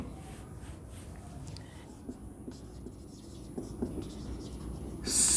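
Marker or chalk writing on a board during a classical mechanics lecture, a steady faint scratching that runs through the whole stretch with small scraping accents and no talk.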